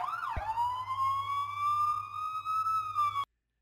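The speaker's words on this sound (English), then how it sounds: "Here's a police siren effect right here." A police siren rises sharply then holds a long, steady high tone with a low engine hum underneath, cutting off abruptly near the end.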